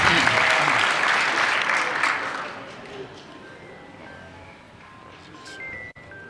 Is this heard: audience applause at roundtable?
yes